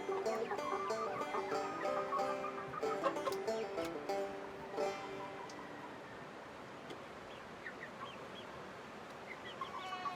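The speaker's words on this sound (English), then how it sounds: "These are our silkies. We got these chicks a few weeks back from our neighbor." Young silkie chickens, a few weeks old, clucking and chirping in a loose, overlapping flock at close range, with soft peeps continuing as the activity thins out.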